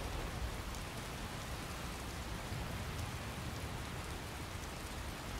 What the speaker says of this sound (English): Am I technically out of the rain?